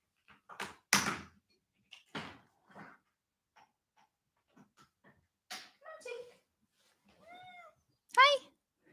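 A pet cat named Tinky meowing at a house window after jumping up to it, several short calls spread out with gaps between them, someone talking quietly in between.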